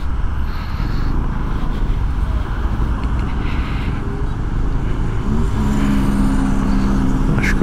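Motorcycle riding through city traffic, a steady broadband road and engine drone throughout with a rising engine whine near the end, passing vehicles around it.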